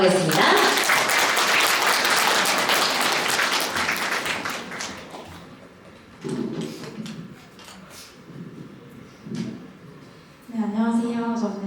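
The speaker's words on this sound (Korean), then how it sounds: "큰 박수로 모시도록 하겠습니다." A crowd applauds at a wedding to welcome the bride's friend up to sing a congratulatory song. Dense clapping fills the first five seconds, then fades as a voice speaks in the quieter stretch that follows.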